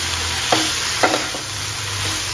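Spinach stirred in a pan over a low flame, with a soft steady sizzle and a few distinct scraping strokes of the spoon, close and alone without talk.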